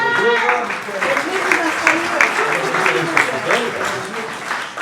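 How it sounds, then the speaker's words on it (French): A theatre audience claps after a volunteer is introduced onstage, giving a lively, uneven burst of applause with voices audible over it, slowly thinning toward the end. "Ah, Michel, on applaudit."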